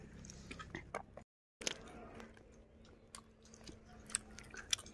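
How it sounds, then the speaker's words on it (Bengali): Biting into and chewing a cooked duck leg: soft, close mouth sounds and small crunches, intermittent clicks and one brief dropout, with no talking. "রানের কামড় দিতেছে"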